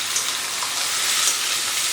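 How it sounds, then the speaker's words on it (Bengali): Mutton fries with onions in a pan, giving an even, soft crackling sizzle that continues without a break and without any voices. "পেঁয়াজের সাথে কিন্তু খুব ভালো করে মাংসটাকে ভেজে নিতে হবে।"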